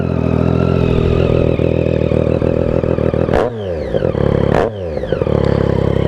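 Triumph Street Triple R motorcycle fitted with a Coffman exhaust, idling loud and close with a steady rumble, then two sharp throttle blips whose revs climb and fall away.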